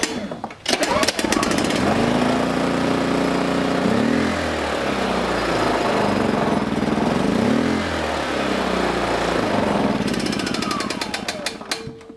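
A Generac generator engine cranks, catches and runs, giving off a loud, close, steady rumble with a few surging swells before it winds down.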